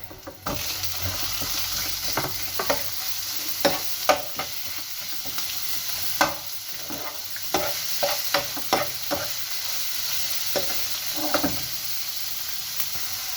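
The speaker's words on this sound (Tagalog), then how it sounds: "Pagluto na yung onion and garlic, lagyan natin yung ground pork." Ground pork frying with cooked onion and garlic in a pan for pork ginisa, a continuous loud sizzle with repeated scraping stirs and clacks of a spatula, close by, no voices.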